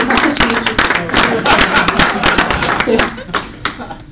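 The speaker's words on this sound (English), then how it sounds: "A big round of applause" A round of applause at a Rotary Club of Kitchener Westmount meeting: dense, steady clapping from a seated room for about four seconds, with a few sharper individual claps and voices mixed in underneath.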